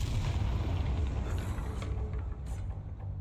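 A Bombarda blast spell in Hogwarts Legacy erupts as a deep, rumbling boom, with a sustained low roar and a couple of debris-like crackles trailing off.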